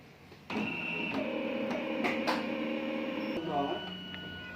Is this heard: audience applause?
no